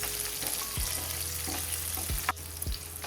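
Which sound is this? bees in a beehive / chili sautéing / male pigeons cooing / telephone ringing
chili sautéing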